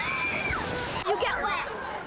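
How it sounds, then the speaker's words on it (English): Rushing, sloshing water from a river rapids ride with eight-seat fiberglass rafts, churned by recycled pumped water, splashes steadily and close throughout, mixed with voices talking over it. "The 8-seat fiberglass rafts are propelled downstream by water that is recycled every 5 minutes by 2 giant submersible pumps."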